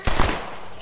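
A gunshot from the Red Dead Redemption video game as a horse is shot out in the wild: a sharp close report with a quick second burst, then a fading tail.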